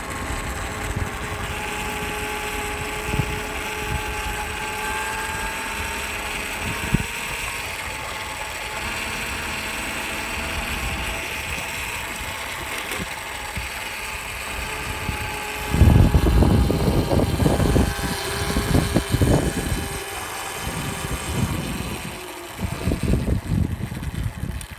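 A 48V Voloci electric scooter ridden outdoors gives a steady motor whine under wind noise, then rattles and thumps loudly as it rolls over bumpy ground near the end.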